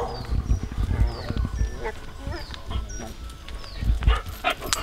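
A dog barks in several sharp bursts nearby, with whimpering and outdoor background noise between them.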